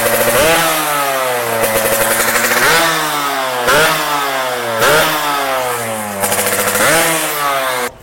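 A Yamaha RX two-stroke motorcycle with a custom-made exhaust chamber and King Cobra engine covers revs up loudly in repeated bursts, its crackly ringing exhaust rising and dropping back to idle about five times, close by.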